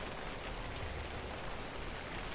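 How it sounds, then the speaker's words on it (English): Steady rain falls in the video game ARK: Survival Evolved, a soft, even hiss of downpour that holds constant and quiet throughout with no voices. "there's loads of rain"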